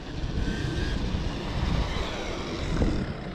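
A Traxxas Mini XRT RC truck runs at full throttle, its motor a loud, steady high-pitched whine with a broad rushing roar held throughout and no talking.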